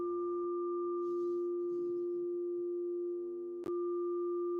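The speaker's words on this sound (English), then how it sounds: "I've got a little frequency generator so I can make particular tones of music." A steady, pure electronic low tone from a phone frequency generator hums continuously, with a brief higher tone at the start that drops away, and a sharp click near the end.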